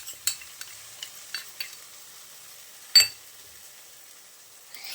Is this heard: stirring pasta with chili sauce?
yes